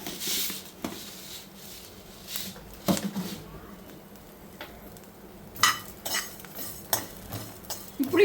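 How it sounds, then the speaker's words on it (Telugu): Fenugreek seeds roasting in a pan, with scattered scraping stirs and soft metallic clinks from a spoon over a low background hiss, the strokes coming in uneven bursts close up. "మెంతులు కూడా మాడిపోయేటట్టు వేపాలి"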